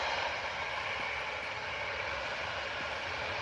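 An Airbus A350 airliner taxis at Manchester Airport, producing a faint, steady broadband engine roar and hiss heard from a distance and lasting throughout.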